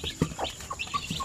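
Short, close chicken clucks and soft chirpy calls of Basilan and Shamo Aseel chicks in quick succession, with a faint steady hum underneath.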